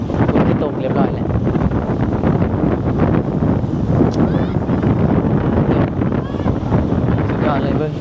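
Steady wind gusting across an open microphone beside a fast, swollen river in flood, a continuous broadband roar with a rushing water wash underneath, loud and unbroken throughout.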